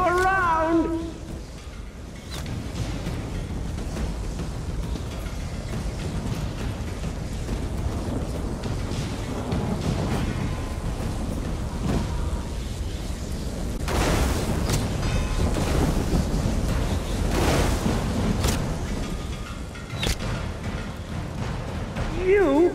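A thunderstorm in the video game ESO rumbles with deep booming thunder and sharp lightning cracks over a constant wash of rain, while voices talk throughout.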